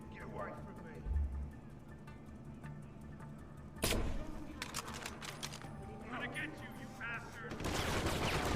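Gunfire in Deus Ex: Human Revolution, several sharp loud shots spaced apart, one near the start and bigger bursts around the middle and end, with scattered clatter and a voice talking between them.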